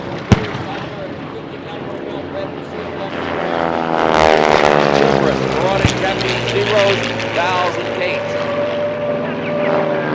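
Propeller warbirds drone overhead at the Breckenridge Airshow 2017, a Tora! Tora! Tora! Pearl Harbor reenactment with Zeros and torpedo bombers, their engine roar rising and sweeping past, with a sharp pop of simulated gunfire or pyrotechnics near the start and a voice talking over it.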